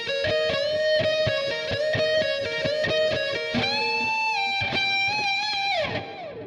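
Distorted electric guitar plays the opening phrase of a song's solo, a run of rapid picked notes, then sustained bends with wide vibrato that fade out near the end, loud and alone.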